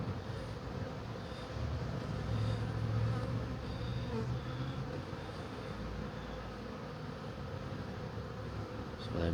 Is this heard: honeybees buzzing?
yes